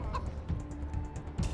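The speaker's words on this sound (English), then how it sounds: "The chicken." A chicken clucks in Wasteland 3, a series of short, bursty clucks mixed with game sounds, close and moderately loud.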